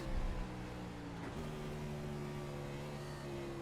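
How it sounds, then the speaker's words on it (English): Onboard a stock car racing at North Wilkesboro, the engine drones steadily and loudly, with a quick dip and pitch change partway through as it shifts down into a corner, then settles back into a sustained roar. "he is definitely shifting down into the corners"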